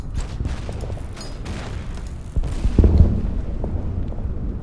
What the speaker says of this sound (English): Mortar fire on these guys.